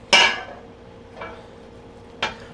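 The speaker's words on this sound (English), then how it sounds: "try not to make scratching noise like me" Metal spatula scraping a baking pan while spreading brookie batter, three separate harsh scratches, the first loudest, then two shorter ones about a second apart, close and alone.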